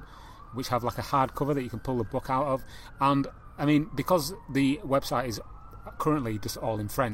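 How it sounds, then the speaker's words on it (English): A siren wails in the background, its rising and falling tone running faintly beneath continuous close-up speech. "I again apologise for the sirens in the background."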